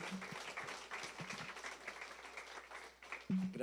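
A church congregation claps during an evening worship service, a steady wash of applause with a few sharper low thumps and a faint voice close at hand.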